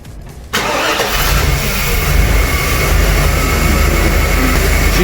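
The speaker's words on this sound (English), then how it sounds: "She started right up." A newly installed replacement engine in a blue truck cranks and catches after a brief quiet moment, then settles into a loud, steady, close rumble.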